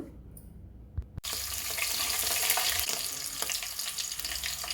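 Green chillies dropped into a hot pan for egg biryani: a brief clatter, then a loud, steady sizzle and crackle of frying that fills the rest of the clip, with no voices.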